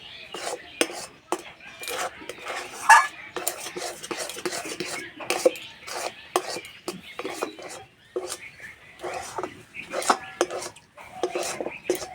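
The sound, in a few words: stirring semolina dough in a wok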